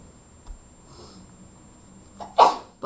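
A single sharp sneeze bursts out near the end after a quiet stretch with faint breath and a soft earlier sniff, loud and close, in an otherwise hushed room.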